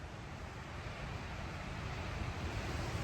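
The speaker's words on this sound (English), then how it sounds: "And there's a biggest gust." A strong gust of wind from a 60 mph storm hits a wild-camping tent with a low, steady roar that builds slightly toward the end. It sounds fairly faint and muffled, and no one speaks.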